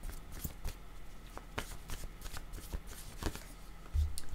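Tarot cards shuffled by hand, a close series of crisp riffling snaps and soft flicks in uneven bursts, with a low thump near the end.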